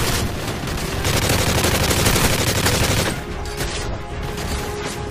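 A UMP45 submachine gun in a video game fires a loud, dense burst of rapid automatic shots for about three seconds, then cuts off, leaving quieter game ambience and a few faint distant pops.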